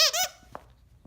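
A dog bites a squeaky toy, giving two loud, close, wavering squeaks in quick succession, followed by a few faint soft thumps.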